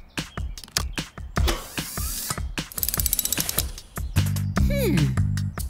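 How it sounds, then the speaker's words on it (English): Cartoon fire truck's hose reel rigged as a winch, cranking out rapid ratcheting clicks in bursts, with clanks, a whoosh and a final rising mechanical whine, busy and close with music-like tones near the end. "turn Fiona's reel into a winch!"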